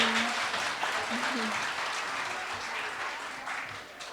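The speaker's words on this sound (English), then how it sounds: "Let's have another round of applause for these talented young musicians." Warm audience applause for young musicians at a year-end concert, a moderately quiet, continuous patter of clapping lasting about four seconds with voices talking underneath.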